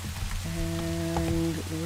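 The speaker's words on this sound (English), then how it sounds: "Let's get rid of the rain sound by going to sleep." Steady rain hisses in Minecraft, a continuous wash of falling drops under tonal game music, with no talking over it.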